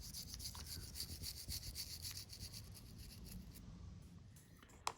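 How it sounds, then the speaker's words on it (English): Primer is scrubbed off plastic Marvel Crisis Protocol miniatures with a quiet, rapid rubbing and bristly scratching, close and continuous, easing off toward the end with a small click just before it stops. "I'm gonna keep scrubbing some more of these."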